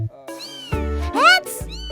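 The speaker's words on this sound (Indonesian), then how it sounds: "Kira-kira peliharaan kucing ini punya siapa ya?" A pet cat meows several times in quick succession, the calls rising and falling in pitch, fairly close and clear, with a short, strained middle meow louder than the rest.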